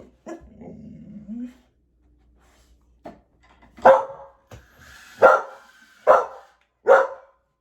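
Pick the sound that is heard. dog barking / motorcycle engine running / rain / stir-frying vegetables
dog barking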